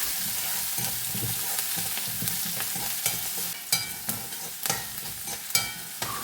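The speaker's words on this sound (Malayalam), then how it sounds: "ഇതൊക്കെ ഒന്ന് ചൂടായപ്പോഴേക്കും സവാളയും പച്ചമുളകും കറിവേപ്പിലൊക്കെ ഇട്ടു." Onions, green chilies and curry leaves sizzle steadily in a hot pan for a bitter gourd thoran, with intermittent sharp clinks and scrapes from stirring growing more frequent toward the end.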